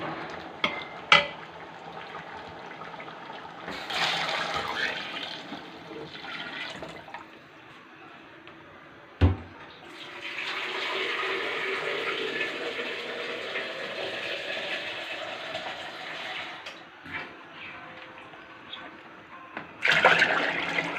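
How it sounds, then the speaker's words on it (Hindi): Water poured from a container into a large pot of cooked chickpeas and rice for pulao, a rushing, splashing pour in uneven bursts with clinks of the pot and quieter gaps between. "अब इसके अंदर हम पानी ऐड करेंगे।"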